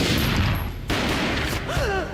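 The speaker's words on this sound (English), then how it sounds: "A gunshot boomed and she fell down in slow motion" Gunfire in the 2001 video game Max Payne, a rapid burst of loud, booming shots followed by quieter rumbling and a brief whistling tone.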